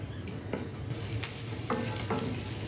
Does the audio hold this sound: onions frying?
yes